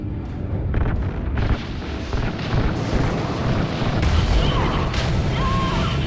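Ignited RCS fuel lines firing in the Call of Duty Ghosts space campaign, a series of heavy booming bursts and rumbling blasts with crackling debris over a sustained roar, a shrill whine near the end.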